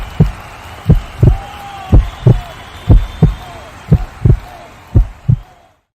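A heartbeat sound effect, loud and close: about nine paired thumps in a steady lub-dub rhythm over a faint hum, fading out at the end.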